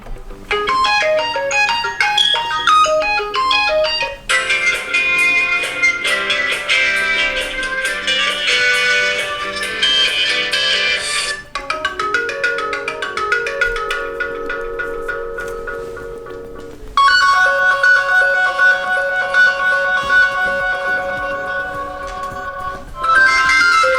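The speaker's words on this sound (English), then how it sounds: "go to phone ringtone" Several different electronic ringtone melodies from a Sharp C10 phone play one after another, bright chiming tones and repeating beeping patterns, loud and clear with no talking.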